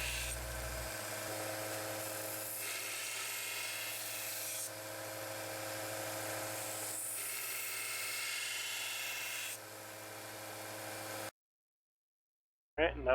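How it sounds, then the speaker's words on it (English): A 1x30 belt sander grinds the plunge line on a knife being restored, a steady whirring, rasping drone that runs continuously and close, then cuts out abruptly near the end. "Just be doing that on my 1x30 sander."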